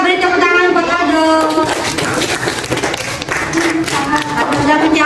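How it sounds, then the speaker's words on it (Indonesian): Classroom applause from a group of pupils, a burst of clapping that continues while a teacher speaks over it. "kita beri tepuk tangan buat Aldo."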